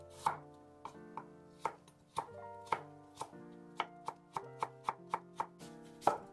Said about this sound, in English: Also cut 100 grams of mushrooms, 1 carrot in julienne